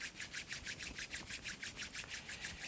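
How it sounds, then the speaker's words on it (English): Palms rubbing briskly together in a quiet room, a soft, rhythmic dry swishing repeated about five times a second, close and faint with no voices. "Rub your hands together."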